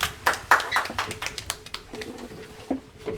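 Scattered clapping from a small audience welcoming two presenters, Cassandre and Emma, onto a stage; loose, uneven hand claps of moderate loudness that thin out, with a faint voice near the end.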